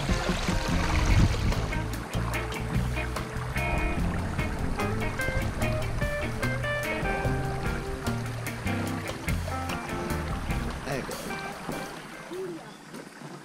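Water flows steadily through a gold-panning sluice box set on a slope beside a stream, a constant close rushing and gurgling with clinks of gravel.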